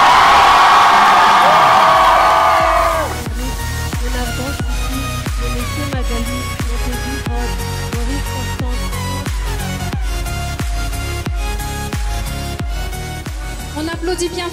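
At a high school graduation ceremony, graduates let out a loud burst of whoops and cheers for about three seconds, then a thumping music beat takes over with crowd noise beneath it.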